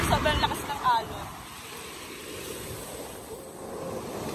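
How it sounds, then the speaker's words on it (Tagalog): Strong surf pounds a rocky beach at Dingalan, Aurora, facing the Pacific. A steady roar of waves mixes with gusting wind buffeting the microphone. A voice speaks over it at the start, then the surf continues alone. "Hindi kami makapunta doon kasi sobrang lakas ng alon."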